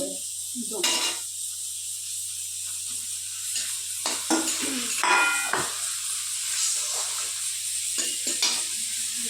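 Tomato and spice paste frying in a pan and being stirred, with a steady sizzle and repeated scraping strokes of the spoon close by; faint voices are heard in the background.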